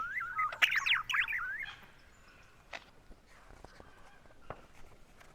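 A lyrebird sings a rapid, varied run of mimicked whistles and chirps up close, then falls quiet, leaving faint clicks and scattered small sounds.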